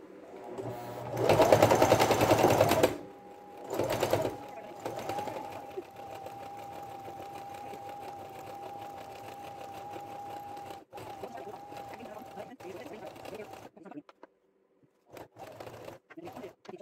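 Stitching through a denim pot holder, a sewing machine runs in bursts, with one loud fast run, then a long steady hum that stops and restarts. Someone speaks occasionally over it.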